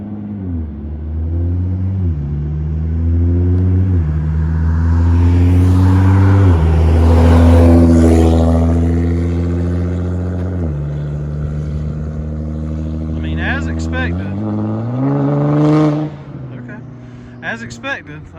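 Nissan GTR with a catless straight pipe exhaust driving past in normal traffic, a loud, deep droning exhaust that builds as it nears, shifts pitch as it goes by and fades, with a voice talking over it near the end.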